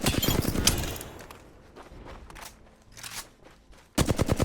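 Bursts of automatic gunfire from Apex Legends, a loud rapid volley up front, then scattered quieter shots, and a sharp renewed burst near the end.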